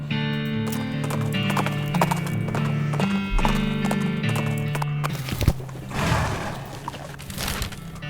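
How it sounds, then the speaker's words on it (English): Steady clip-clop of cart horse hooves plodding along in the video game West of Loathing, with an occasional whinny and background music running underneath throughout. "But these are cart horses."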